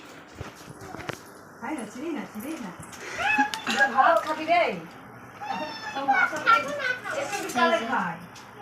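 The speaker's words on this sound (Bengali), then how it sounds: "এই যে সোনাই ওখানটায় খেলা করছো ঠামের সাথে" A three-year-old child plays with a grandmother indoors, with bursts of high, sing-song vocalizing and squeals, light footsteps and small knocks, rising and falling in loudness.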